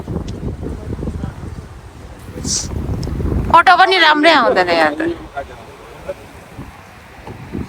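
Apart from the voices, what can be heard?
strong wind at Memorial Park, Newcastle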